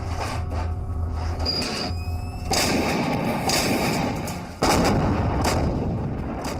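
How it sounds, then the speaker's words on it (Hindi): Artillery shelling in the Kargil war zone, a string of sharp booming blasts and cracks, some close and loud, with rumbling reverberation between impacts. "दोनों पक्षों के बीच लगातार बिना रुके कई दिनों से गोलाबारी हो रही है"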